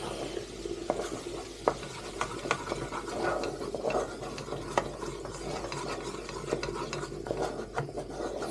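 A spoon stirs flour into white sauce in a pan, giving soft repeated scraping and rubbing strokes with light clicks against the pan over a faint sizzle, fairly quiet and without talk.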